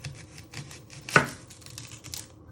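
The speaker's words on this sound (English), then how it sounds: "So you're going to start off with chopping your onion. So what you do is you first chop your ends off." A knife trims the ends off an onion on a cutting board while lamb kebabs are being prepared: quiet, close cutting sounds with one sharp knock of the blade partway through, and no speech.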